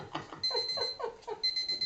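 An alarm clock ringing with quick repeated electronic beeps in short bursts, fairly faint and heard alone.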